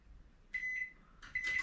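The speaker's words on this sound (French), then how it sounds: "je vais programmer mon four micro-ondes" A microwave oven being programmed gives two short electronic beeps, clear and close, in a quiet kitchen.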